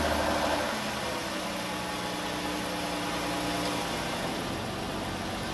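A car engine runs at a steady idle after starting, following recent repair work and cleared fault codes; a continuous, fairly even mid-range hum and rumble holds throughout with no talk.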